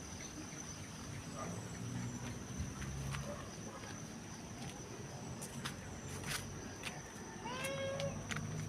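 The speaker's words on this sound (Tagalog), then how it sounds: "Yung pusa diyan." A cat meows briefly outdoors near the end, fairly faint against a steady background hiss and low rumble.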